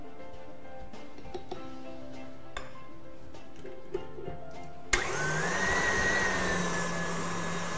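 A stand mixer kneading bun dough switches on abruptly with a loud, steady motor whine after a few quiet clicks and taps, and the sound holds evenly to the end.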